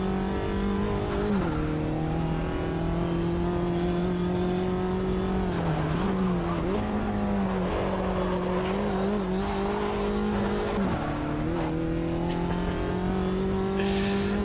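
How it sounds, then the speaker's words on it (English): A turbocharged race car at Bathurst in the Automobilista 2 video game drones loud and close for the whole stretch. Its engine pitch dips and rises through gear shifts, with wastegate chatter fluttering over the steady roar. "Turbo wastegate chattering away."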